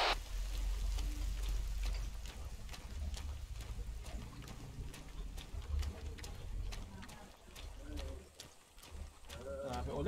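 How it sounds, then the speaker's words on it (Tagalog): Steady rain in the video game Arma 3 hisses throughout, with scattered sharp drip-like ticks and a low rumble underneath, fairly loud and continuous. "Grabe ulan."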